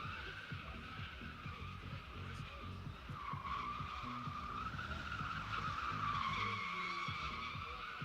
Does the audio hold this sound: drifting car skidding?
yes